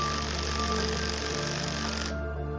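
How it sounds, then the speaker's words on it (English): An impact wrench runs in one continuous rattling burst while tightening the special clutch bolt on a Bajaj Pulsar NS200 motorcycle engine during a slipper clutch upgrade. It is loud and close, then cuts off abruptly near the end. "Using the impact wrench, I fully tightened the special bolt of the clutch"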